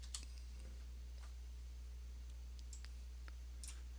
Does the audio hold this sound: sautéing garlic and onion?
no